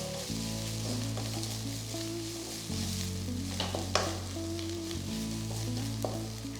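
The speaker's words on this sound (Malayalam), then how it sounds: "ജിഞ്ചറിൻ്റെയും ഗാർലിക്കിൻ്റെ റോ സ്മെല്ല് പോകുന്ന വരെ കുക്ക് ചെയ്യാം" Ginger garlic paste frying in a pan, a loud steady sizzle with stirring scrapes and a low tonal hum running beneath, no talking.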